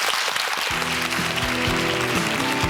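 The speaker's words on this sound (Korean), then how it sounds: "훌륭한 아나운서가 되라는 격려의 박수 한번 부탁드리겠습니다" A burst of studio audience applause on a Korean TV quiz show, dense clapping filling the space with no talk on top, while a bright electronic tone plays under it.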